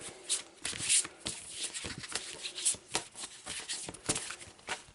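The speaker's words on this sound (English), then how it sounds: "we'll give them a quick shuffle" A small stack of cards for the Arkham Horror board game is shuffled by hand in quick, crisp riffles and snaps, close and fairly quiet, repeated over several seconds.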